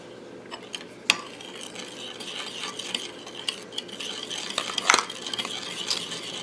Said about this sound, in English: Just stir this up.